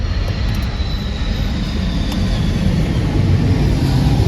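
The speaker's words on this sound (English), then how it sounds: "Here comes a plane. Right in front of us." A loud, broad roar of an airplane close overhead, steady and rumbling throughout with a slight swell toward the end, no voices.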